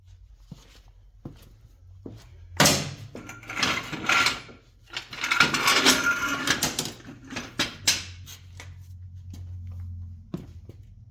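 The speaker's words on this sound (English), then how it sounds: "Let's put some jack stands on the front" Metal jack stands set under the front of a free lawn tractor, a run of close clanks, scrapes and knocks in bursts, with quiet pauses between the heavier metal contacts.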